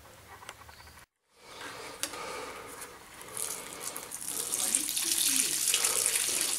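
Water poured onto a garden plant, a soft splashing and trickling that starts after a brief silence and grows steadier and louder toward the end.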